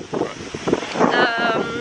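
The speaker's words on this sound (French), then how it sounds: "il y a du vent et des nuages" Gusty wind blows across a beach on Ibiza, buffeting the microphone with a rough, fluctuating rush that swells and eases over the short stretch; no clear talking.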